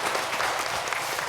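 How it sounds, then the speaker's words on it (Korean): A church congregation's warm welcoming applause for newly registered families during a Sunday worship service, brief, dense and steady clapping filling the room. "우리 환영의 박수를 보내주시기 바랍니다."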